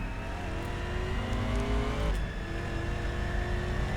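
Race car engine in the racing game Race Driver: GRID, heard from the in-car view as a loud, steady droning roar with shifting revs and a brief dip before climbing again.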